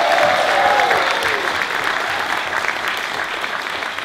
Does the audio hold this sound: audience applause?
yes